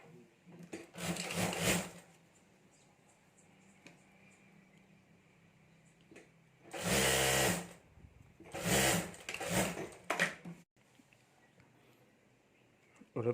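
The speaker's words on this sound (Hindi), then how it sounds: "उसके ऊपर हमें सिलाई कर देनी है।" A sewing machine stitches lining onto a handmade clutch bag in several loud motorized runs of rapid needle chatter, separated by quieter gaps with fabric handling and faint room noise.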